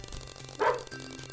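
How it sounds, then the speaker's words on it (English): A single short dog bark from a hallway, muffled and somewhat distant, rising briefly over a low steady background hum. "She's been barking in the hallway all morning."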